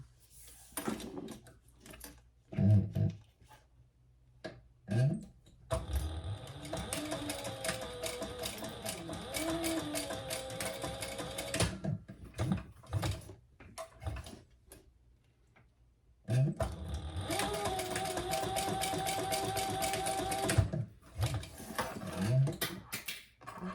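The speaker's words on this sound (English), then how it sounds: "let's do a couple of rows of stitches there" A sewing machine stitching rows along a messenger bag strap, running in two long steady bursts of rapid mechanical clatter separated by pauses with scattered clicks and handling noises, close by with no speech.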